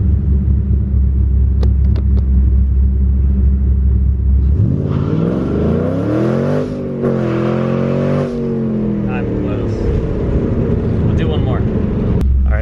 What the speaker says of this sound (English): I'm gonna do a nice little launch here.